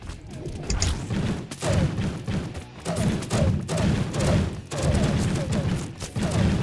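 Video game gunfire sounds as a run of repeated thumping shots in uneven bursts, fairly loud and continuous across the whole clip, with no voices over it.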